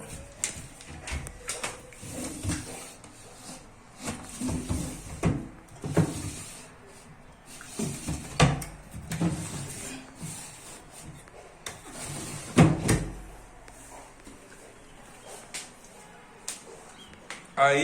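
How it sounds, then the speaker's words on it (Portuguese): Wooden bathroom cabinet drawers opening and closing during hinge replacement, a series of irregular knocks, slides and clunks spread across the clip, fairly close, with faint background noise between the bumps. "as gavetas eles abrem normal"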